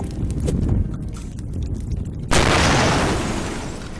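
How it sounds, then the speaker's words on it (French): An explosion sound effect: a sudden loud broadband blast bursts in partway through and lingers as a sustained roar that slowly fades, following a low rumbling background. "C'est quoi qui a explosé?"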